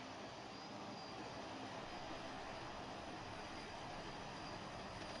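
Twin Antonov AN-12 turboprop engines in BeamNG.drive drone steadily and loudly throughout, a dense continuous roar with a faint high whine and no voices.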